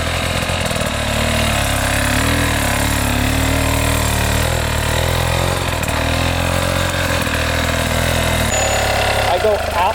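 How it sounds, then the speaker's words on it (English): Motorcycle engine running steadily with the throttle held, a loud, continuous droning hum at constant revs, with someone talking over it. "Listen to that bike."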